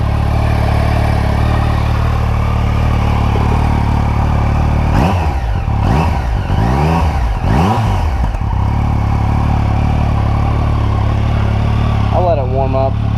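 Yamaha FZ09/MT09 motorcycle with a modified stock exhaust idling steadily while warming up, a continuous mid-pitched engine drone with a few brief throttle blips in the middle and a person speaking over it.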